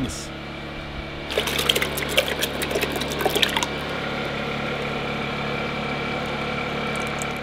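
Hot green salsa or tomato sauce splashes and trickles while canning jars are being filled, a short burst of near, wet pouring over a low steady hum that then stops.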